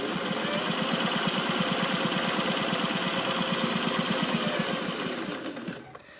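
A sewing machine stitches a fabric face mask with tight back-and-forth stitches, a fast steady mechanical whir close by that slows and stops near the end.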